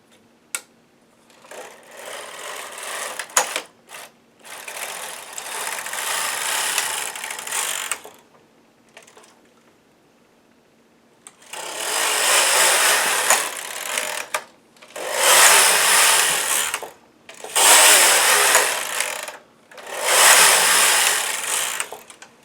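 A knitting machine carriage runs back and forth knitting rows of waste yarn, each pass a loud whirring, clacking rush lasting a few seconds, separated by short quiet gaps, close up with no talking.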